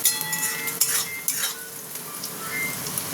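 Vegetable bread chop filling seasoned with black pepper powder and amchur frying in a pan, with steady close sizzling and occasional scrapes and clinks of a spoon stirring, no talk.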